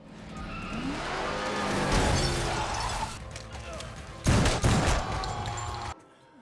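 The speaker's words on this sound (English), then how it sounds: "His car gets banged up, and the henchmen slam into Jhon with their cars" Cars crash into each other during a film chase. Engines roar and tires skid, a loud impact with shattering metal and glass lands near the end, and the sound cuts off abruptly.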